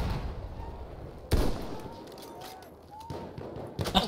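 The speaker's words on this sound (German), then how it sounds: "Da kam irgendwo ein Schuss." Gunfire in the shooter game Battlefield 1: a sharp loud shot bursts out near the start, followed by a quieter crack later and a cluster of distant pops at the end, over a low rumbling battlefield ambience.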